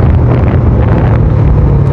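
Constant loud wind buffets the microphone with a deep, rumbling roar and no pauses, recorded while riding a Suzuki Raider 150 Carb motorcycle.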